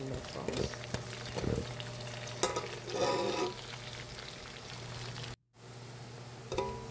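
Onion and tomato sizzle and hiss in a hot pan for pancit guisado, with spatula stirring scrapes over a steady frying crackle and a brief dropout partway through.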